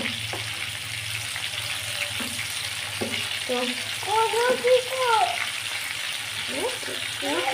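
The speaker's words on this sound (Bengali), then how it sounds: "আর একটা সাইড এরকম করে ভেজে নিব" Chicken chaap fries in a pan with a soft, continuous sizzle and scattered clinks of utensils. A voice speaks briefly nearby.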